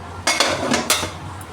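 Bright clinks of a serving utensil striking dishes while steamed salt rice balls (uppu urundai) are plated: three or four sharp taps close by, spaced irregularly within a second.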